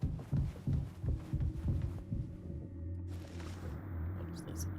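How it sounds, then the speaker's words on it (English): A low, muffled heartbeat from the video game Mouthwashing thumps in a steady throbbing rhythm for a couple of seconds, then gives way to a dull hum. "we're listening for like a heartbeat"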